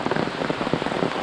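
Steady rain pours down on a mostly tent campground in the Great Smoky Mountains National Park, a dense, even patter of drops on surfaces filling the whole moment with no voices.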